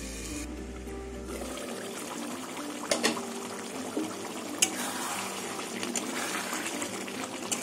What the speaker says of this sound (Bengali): আবার একটু জল দিয়ে দেবো।